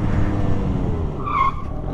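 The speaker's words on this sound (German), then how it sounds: "Kleinen Bremsentest." A Peugeot Speedfight 4 two-stroke fuel-injected scooter brakes hard, its engine droning low before a sharp, loud tire squeal rises briefly near the end of the skid.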